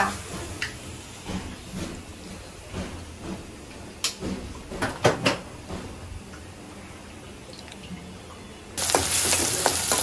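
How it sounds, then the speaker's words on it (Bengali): Food frying in hot oil in a pan, with a steady broadband sizzle throughout, scattered scraping and stirring clicks, and a sharp surge of louder sizzling near the end as something is added to the oil. "এটা ভাজবো।"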